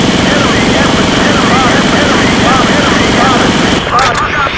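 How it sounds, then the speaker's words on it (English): An attack helicopter in the video game Battlefield 2 roars loud and close, its continuous rotor and engine drone filling almost the whole stretch before it abruptly thins out near the end. "Enemy helicopter spotted."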